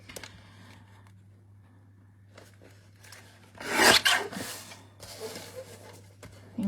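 A small paper trimmer slides along craft card in a brief scraping cut, close and distinct, followed by softer rubbing and handling sounds against a low background hum.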